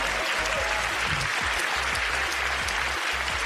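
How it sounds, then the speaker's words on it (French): Audience applause during a French-language talk show on wealth and financial freedom, continuous dense clapping with a faint murmur of voices underneath. "Applaudissez-la très fort."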